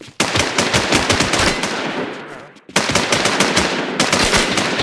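Rapid bursts of machine gun fire in the video game Infestation, loud and close, with a short pause before another long stream of shots.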